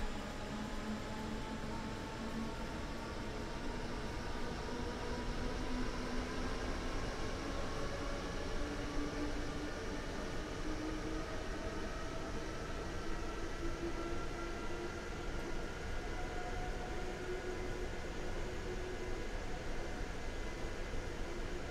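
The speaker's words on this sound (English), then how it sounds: "For a commuter type train, That got to speed pretty damn quickly." A commuter train accelerating in the Train Sim World 4 game, a steady, loud broadband rumble with rising motor whine tones gliding upward throughout, continuous and unbroken, with no talking.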